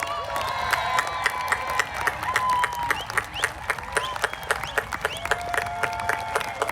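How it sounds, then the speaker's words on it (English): A crowd at a class of 2021 graduation claps and cheers for the graduates, with sharp rhythmic claps and scattered whoops and shouts layered over a steady wash of applause. "Let's give them a round of applause"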